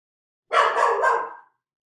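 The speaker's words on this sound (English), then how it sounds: "how funny is it that my dog is hollering right now?" A single dog holds one sustained, drawn-out howling bark of about a second, close and fairly loud, in an otherwise quiet indoor space.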